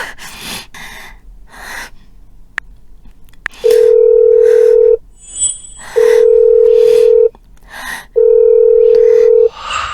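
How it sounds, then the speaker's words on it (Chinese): A telephone call being placed in a drama scene brings three long, steady ringing tones separated by short pauses, preceded by sharp gasps and breathing. "我给他打电话。"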